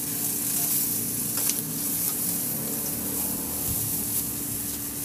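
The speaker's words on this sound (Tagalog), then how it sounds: "Magpainit na rin ako ng mantika at sa kawali. At igisa ko na yung bawang." Garlic and onion sautéing in hot oil in a pan give a steady, close sizzle with a soft crackling hiss that holds evenly throughout.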